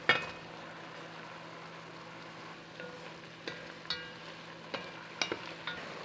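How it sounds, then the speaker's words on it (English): Sage grouse pieces go back into a gently simmering pot after a deglazed, reduced pan liquid: a faint low sizzle runs throughout, broken by a few soft clunks and scrapes toward the end. "Now we're gonna return the grouse back to the pot."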